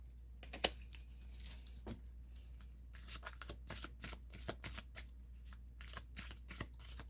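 Tarot cards shuffled and laid out on a surface, a soft run of close, quick slaps and riffling flicks, fairly quiet and with no talking.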